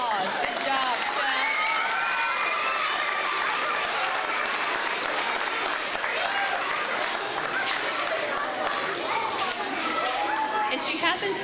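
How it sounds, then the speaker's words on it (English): A school crowd applauds steadily for a student dressed as Chef Recycle at an outdoor elementary school Arbor Day celebration, with children's cheers and shouts mixed into the continuous clapping. "Give her a round of applause"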